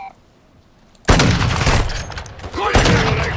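Gunfire in Call of Duty MWII DMZ on the Al Mazrah map: silence, then a loud, sustained burst of rapid overlapping shots that keeps rattling to the end.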